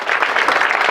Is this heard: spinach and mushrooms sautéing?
no